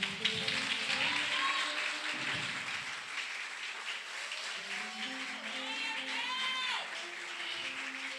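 Congregation applauding during a church service, a dense steady wash of clapping held at even loudness throughout, with some music or voices faintly underneath.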